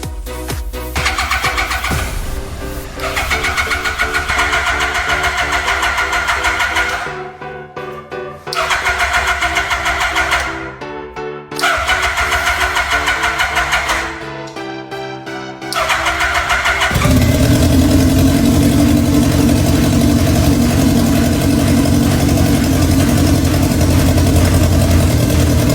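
A restored Yamaha R1 motorcycle with fresh oil and an external gasoline can is cranked in several loud, rhythmic bursts with pauses between them. The engine then catches and settles into a steady, rough idle.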